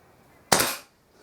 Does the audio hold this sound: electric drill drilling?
no